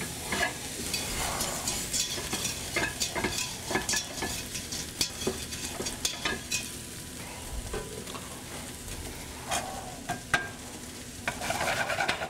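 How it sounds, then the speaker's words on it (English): Brown sugar, about three quarters of a cup, caramelizes in a pan while being stirred, a quiet bubbling sizzle broken by frequent scraping strokes of a utensil, with no talking. "I'm just going to let that sugar get all caramelized."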